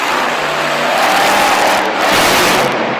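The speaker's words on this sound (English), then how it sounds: "it's cool to hear these trucks sound nice and loud regardless" A loud, steady monster truck engine roar up close at a Monster Jam arena event, revving hard with a continuous throaty drone and no pauses.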